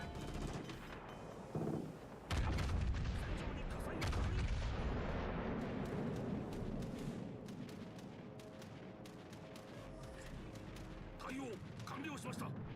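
Battleship main guns booming in the naval combat video game World of Warships Legends: a loud salvo followed by dense, continuous rumbling gunfire and explosions, with a voice talking over the game noise.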